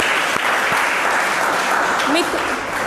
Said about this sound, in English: Clap for Nisha, she is right.